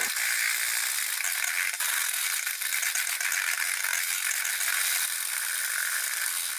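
A KitchenAid 5KHM9212BOB hand mixer in onyx black whisks eggs into batter, giving a steady, loud, unbroken whirring rattle up close for the whole stretch.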